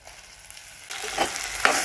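Tomatoes drop into a hot pan already holding curry leaves, onion, garlic and dried fish, setting off a sudden loud sizzle that keeps crackling after a quieter start.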